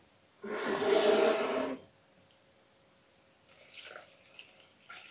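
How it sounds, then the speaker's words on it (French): Milk is poured over pear and cinnamon for a milkshake, a soft, close gurgling pour lasting just over a second, followed by faint trickles and small splashes. "Et ensuite, je verse le lait."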